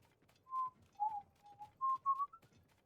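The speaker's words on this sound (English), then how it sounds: "Can you guys hear when I whistle?" A person whistles a short melodic tune of several distinct notes, moderately loud and close, with faint background noise and no speech.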